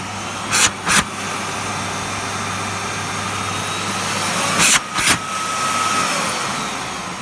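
A Miele S5261 canister vacuum cleaner drones steadily at close range with a constant broadband whine, broken by two pairs of brief louder bursts as the nozzle is moved or blocked.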